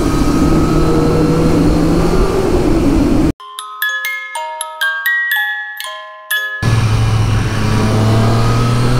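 A 2023 Triumph Street Triple 765R rides along a dual carriageway with a loud, close engine drone and rushing wind, broken in the middle by a few seconds of tinkling musical notes before the engine returns.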